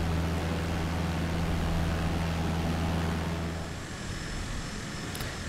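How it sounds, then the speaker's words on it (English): Aircraft taking off in Microsoft Flight Simulator 2020 with flaps at 10 degrees, a loud steady engine roar with a low droning hum that eases and thins toward the end. "Got the flaps at 10 degrees, gonna do a little takeoff."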